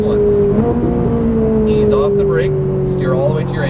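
A Ferrari 458 Italia engine drones loud and steady at full throttle on a racing circuit, a constant roar under an instructor's voice talking over it.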